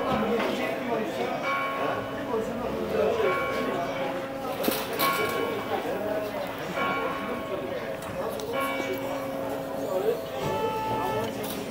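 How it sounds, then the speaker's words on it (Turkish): A church bell tolls repeatedly at a measured pace in Adana, its ringing tones carrying through background chatter and clatter of a street food stall nearby. "Bu çan sesi, çan."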